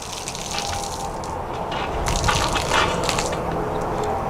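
Water gushes and splashes from the city water connection of a Coachmen Catalina travel trailer being winterized, a continuous close rush with sputtering bursts that grows louder toward the middle.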